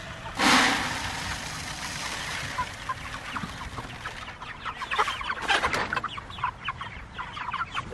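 White chickens cluck and squawk nearby in New York City, with one loud squawk early and a busy patch of repeated clucking later over a low background hum.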